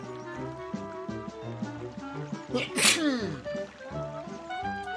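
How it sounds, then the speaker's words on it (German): A single sharp sneeze bursts out briefly in the middle, over busy cartoonish game music from Cuphead, with a voice nearby. "Oh, sorry, ich muss kurz niesen."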